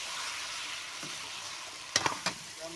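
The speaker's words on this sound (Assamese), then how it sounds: "দি পেলাই ভালদৰে ভাজি ল'ম" Spices frying in hot oil for a mutton curry give a soft, continuous sizzle, broken near the end by a few short, sharper crackles or stirring clicks. The pan is close and fairly quiet, with no voices.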